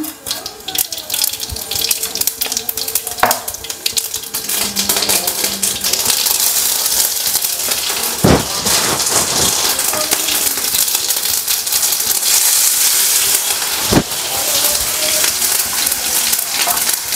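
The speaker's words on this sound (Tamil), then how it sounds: "பீன்ஸ் வந்து தாளிப்பு போட்டுக்கலாம்." Tempering for beans poriyal sizzles steadily in a hot pan as mustard seeds, garlic and curry leaves fry, with a continuous crackling hiss, a few sharp pops and metallic clinks, close and loud, and no talking.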